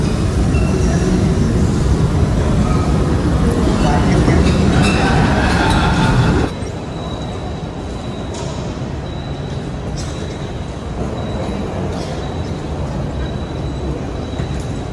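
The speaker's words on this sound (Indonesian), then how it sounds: "ini kereta yang akan memberangkatkan dari Jeddah Airport ke Madinah Al-Munawwarah." A passenger train at the Jeddah Airport station bound for Madinah rumbles loudly with a steady rolling roar, then drops to a quieter hum with faint high tones and soft clicks.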